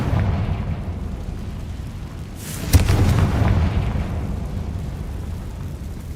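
A Confringo blasting spell going off in Hogwarts Legacy, a sudden booming explosion that swells and rumbles before fading into the steady game ambience.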